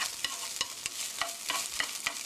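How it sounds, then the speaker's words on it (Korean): Chopsticks stir-fry tuna in a pan, tapping and scraping in a quick irregular rhythm over a soft steady sizzle, heard up close with no talking. "이렇게 볶아주는 거예요."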